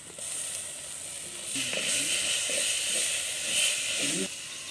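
Steady sizzling of onions and tomatoes sautéing in a hot pan, a continuous hiss with faint stirring clatter, close up and without speech.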